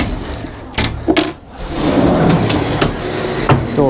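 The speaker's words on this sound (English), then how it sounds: "Open the doors up here." Doors on a Sunseeker Predator 74 XPS luxury yacht open with a couple of sharp wooden clunks and latch knocks, followed by a soft sliding rumble and a few lighter taps, close and clear with no talking.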